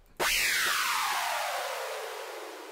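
Synthesizer sound effect built in Sylenth1 with added distortion: a loud, bright noisy sweep starting abruptly and gliding steadily downward in pitch over nearly three seconds, fading slowly, heard alone.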